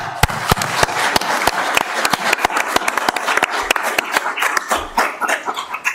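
Audience at a board meeting applauding: a steady run of sharp, close claps in a brisk, uneven rhythm that fills the whole stretch, with no talking over it.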